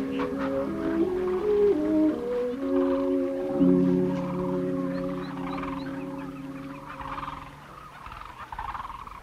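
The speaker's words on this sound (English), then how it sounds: "The white-fronted geese rest here in huge flocks" A huge resting flock of white-fronted geese calls together in a dense, continuous chorus of overlapping honks and nasal cries, steady and moderately loud, with no one speaking.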